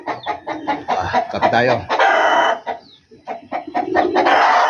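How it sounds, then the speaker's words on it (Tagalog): Chickens cluck and squawk up close in a backyard coop, with repeated bursts and a rooster-like call mixed in, while someone talks over them. "Kita nyo, nag-alaga akong manok."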